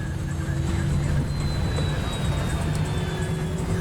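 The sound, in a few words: Delta 191 airliner flying into a microburst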